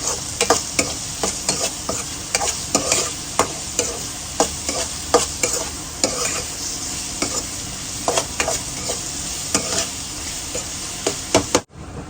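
A spoon stirs garlic into a raw mango curry in a sizzling pan, scraping in a quick, repeated rhythm over a constant frying hiss for several seconds, close and fairly loud, with no one speaking.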